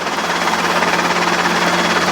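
A Robinson R22 helicopter hovering low over tall grass, a loud, steady rotor and engine roar with a fast, even beating throb that fills the whole sound.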